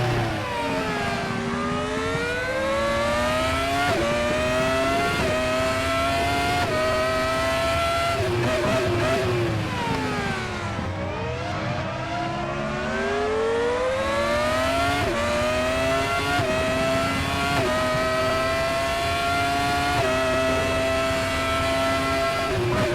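A Formula One car at speed in the RaceRoom racing game on the Daytona road course, its high-pitched engine whining steadily and rising and falling through gear changes, loud and continuous with no talk.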